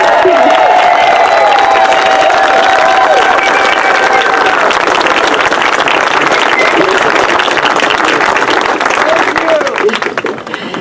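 A big round of applause for former Representative Sam Farr at an outdoor groundbreaking celebration for the Santa Cruz County Coastal Rail Trail: loud, dense clapping from a crowd, sustained throughout, with some cheering mixed in.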